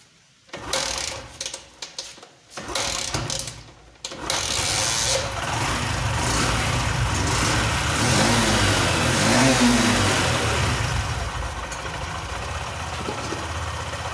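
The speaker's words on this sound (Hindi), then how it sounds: "चलिए अब गाड़ी को स्टार्ट करते हैं" A BS6 Honda commuter motorcycle (SP 125, Shine or Livo class) with a freshly replaced fuel filter cranks over in a few short bursts, then catches and settles into a steady, close idle that runs on alone.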